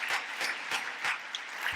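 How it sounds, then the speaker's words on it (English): Audience applause at an international health summit keynote, a broad crowd clapping in a steady wash with pulsing swells, heard from a distance and fairly faint. "Let's give them a round of applause."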